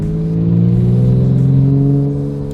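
BMW M3 GTR engine revs steadily while driving, a loud, close, smooth mechanical drone that swells and eases slightly over a couple of seconds, with no talk.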